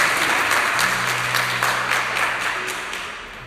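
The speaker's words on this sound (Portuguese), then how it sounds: "Vamos aplaudir a palavra de Deus. Aplauda com força." A church congregation applauds loudly, a dense wash of many hands clapping together that gradually fades toward the end.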